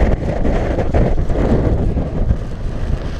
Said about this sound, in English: That was a good bit of wind, wasn't it?